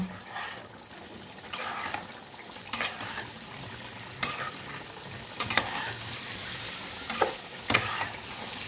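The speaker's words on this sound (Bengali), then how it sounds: "বাকি সিদ্ধ আমি এই তেলের মধ্যে ভেজে ভেজে করব" Boiled taro (mankochu) fries in oil over a raised flame, with a steady sizzle and sharp spatula clacks against the pan every second or so.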